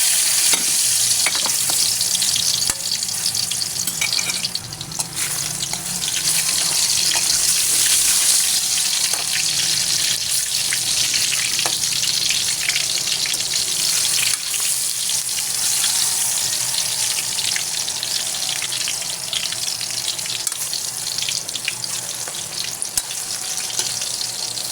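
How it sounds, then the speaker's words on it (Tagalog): Saba banana slices frying in a pan make a loud, close, continuous sizzle with crackling spatters and occasional stirring scrapes, steady throughout with no voices. "Ngayon naman, pipirtuhin ko yung saging."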